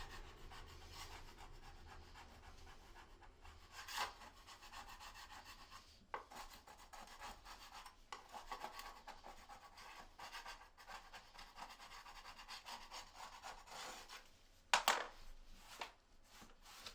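Old caulking is scraped off a floor around a toilet during a wax ring replacement. Quiet, close rubbing and scraping strokes repeat irregularly, with a few sharper clicks and one louder scrape near the end.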